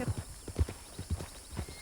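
Galloping horses in a video game, with many horses and people moving about: rhythmic, fairly faint hoofbeats repeat steadily over a low background hum.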